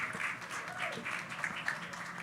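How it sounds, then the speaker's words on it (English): Conference audience at a Bitcoin mining industry panel giving a round of applause, a soft steady patter of many hands at a distance, fairly quiet throughout. "A round of applause, please."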